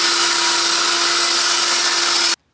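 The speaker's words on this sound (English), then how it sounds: "I'm just ripping it with the circular saw, just about a little bit less than a ½ inch wide" A circular saw rips lengthwise through a wooden fence post in a garden, a loud, steady, high whining cut held continuously before stopping abruptly.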